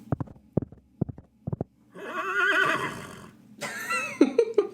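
A man hums in a way that resembles a horse's whinny, a voice imitating the animal, with a drawn-out wavering call after a few short mouth clicks and thumps, loud and close.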